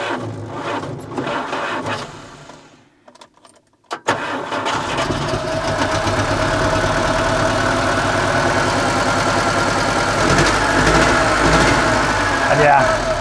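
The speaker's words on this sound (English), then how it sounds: "it sounds a little bit like a diesel engine, and that is because it's not firing at all on cylinder number 4" A Żuk van engine starts up after a brief cranking pause and settles into a rough, uneven idle, misfiring on cylinder four with a lumpy diesel-like clatter, close and loud; someone talks over it.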